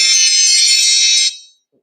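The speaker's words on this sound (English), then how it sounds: "my phone just did some crazy alarm" A phone alarm blares a loud, shrill electronic tone that holds steady for over a second, then cuts off and fades quickly into silence, with no speech.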